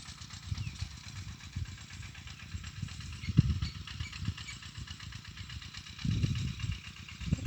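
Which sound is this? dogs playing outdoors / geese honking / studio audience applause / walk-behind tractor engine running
walk-behind tractor engine running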